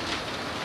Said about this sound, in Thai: ฝนก็ตกมากขึ้น